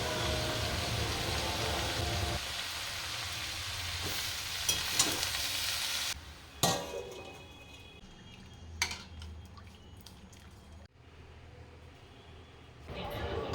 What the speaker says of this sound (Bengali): আর আমি এদিকে করছি হচ্ছে শাক।